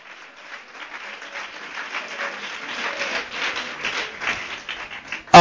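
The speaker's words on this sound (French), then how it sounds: "Nous acclamons très fort le roi des rois, le Seigneur des seigneurs." A church congregation applauding, a dense crowd of clapping that swells gradually over several seconds and keeps going steadily without a break.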